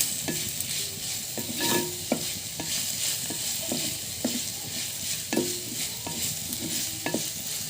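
Tomatoes sautéing in a pan for a sardine curry, with a steady sizzle and frying hiss broken by repeated scraping stirs of a spoon against the pan.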